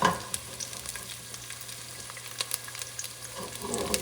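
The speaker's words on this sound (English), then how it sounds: "I'm going to put the chorizo. And I'm going to cook this baby for about a minute." Chorizo frying in a pan over medium-high heat produces a quiet, steady sizzle with scattered small pops and crackles, close by and without speech.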